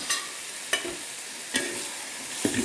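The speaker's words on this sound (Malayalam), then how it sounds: "മുട്ടയും മസാലയും കൂടെ നല്ലപോലെ യോജിക്കട്ടെ. രണ്ട് മിനിറ്റ് നേരം നല്ലതുപോലെ ഇളക്കി" A spoon scrapes and stirs boiled, scored eggs through sizzling masala in a pan for egg biriyani, giving a few distinct scraping strokes over a steady frying hiss, close up.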